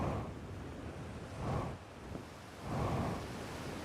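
A waterfall in the video game Outer Wilds roars as a steady rushing wash of water, swelling louder twice in broad surges like crashing spray.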